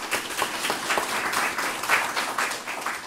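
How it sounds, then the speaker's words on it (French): A press-conference audience applauds the organizing committee of La Galopade 2015 with a steady, moderately loud patter of clapping from many hands, sustained evenly for about three seconds with no talking. "il faut applaudir le comité organisateur"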